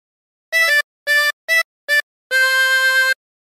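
Harmonica playing a phrase of Mary Had a Little Lamb: four short reedy notes followed by one long sustained note, clear and close with no talking.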